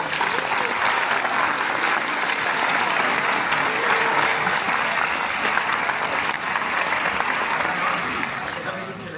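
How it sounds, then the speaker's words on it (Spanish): A large crowd at Comic Con Málaga claps in sustained, loud applause that holds steady throughout, with voices mixed faintly into the roar of hands. "Un aplauso, por favor."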